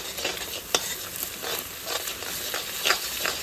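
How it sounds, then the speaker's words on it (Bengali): Two eggs fry in a pan under a continuous sizzle, with repeated scraping stirs and a couple of sharper utensil clicks against the pan. "এইভাবে নাড়তে চাড়তে নাড়তে চাড়তে দেখো একদম কিন্তু হয়ে গেছে।"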